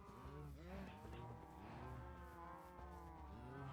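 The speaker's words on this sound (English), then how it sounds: "Cows are so noisy, jeez." Several cows in a Minecraft farm moo repeatedly and overlap in a low, continuous lowing chorus, faint and close together with no talk.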